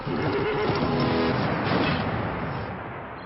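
Horses neigh and whinny amid loud rustling as they crash through dense Ontario bush during a chase, with broadband thrashing noise throughout and a couple of whinnies early on, fading slightly toward the end.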